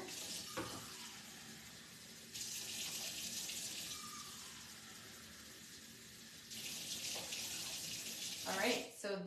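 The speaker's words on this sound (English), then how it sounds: "then I'm gonna add 2 more cups of water" Water pours steadily into a pot on the kitchen counter for Instant Pot kitchari, a close, continuous running stream that swells in two bursts, with a clink near the end.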